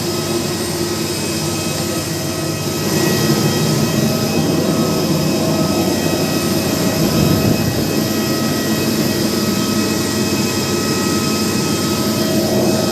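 Inside an airliner cabin on a return flight, the jet engines give a loud, continuous broadband roar with steady tonal hums, holding constant throughout with no talk.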